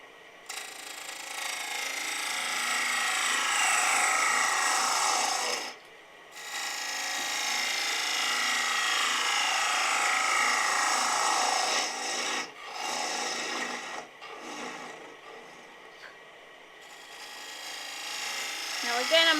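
Wood turning on a lathe, a 3/8 ball gouge undercutting a toadstool house piece: a loud continuous rasping scrape in long sweeping passes broken by brief pauses, with a voice talking at times.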